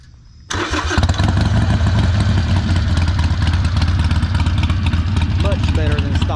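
A Harley-Davidson Sportster motorcycle with aftermarket exhaust fires up and runs at a loud, close, rumbling idle with a steady throbbing pulse.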